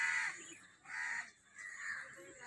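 Black crows in India give three hoarse caws, spaced out and at a moderate distance.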